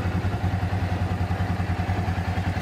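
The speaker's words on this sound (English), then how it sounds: "they hear him out on the tractor" A tractor engine running out in the pasture while spreading manure, a steady loud rhythmic diesel chug close by with no change in pace.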